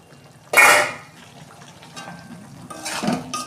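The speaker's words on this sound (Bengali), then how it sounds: "দেখুন বন্ধুরা, ঢাকনা খুলছি।" A pan lid is lifted off a potato and pointed gourd curry, releasing a brief burst of hissing sizzle, then softer bubbling and a second clink and sizzle a couple of seconds later.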